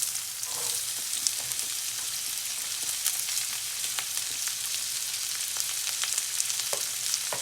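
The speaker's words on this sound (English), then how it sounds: "Add your chopped onions." Chopped onions frying in hot oil in a pan for keema curry, a constant close sizzle and crackle with scattered small pops, steady throughout with no talking.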